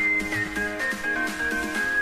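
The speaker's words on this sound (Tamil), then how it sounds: "இப்போ பாருங்க, 1 விசில் வந்துருச்சு." A pressure cooker whistles on a stove while a chicken and coconut milk curry cooks inside, giving a steady, high-pitched tone that holds for about two seconds at moderate loudness.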